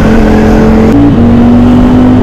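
A Ducati Streetfighter motorcycle being ridden, its engine note loud and close with a steady drone, one brief shift-like dip and change in pitch partway through, and no talking.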